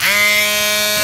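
A power sanding tool smooths a rusted metal bus bumper with a loud, steady electric whine and buzz that holds at constant pitch throughout.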